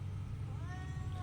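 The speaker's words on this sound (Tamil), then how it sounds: "அந்த பூனை அது வந்து கூப்பிடுது" A cat meows in a drawn-out, rising-and-falling call in the second half, heard over a steady low hum in a home where laundry is being washed.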